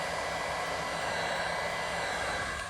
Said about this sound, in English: All right, so I have my heat gun here.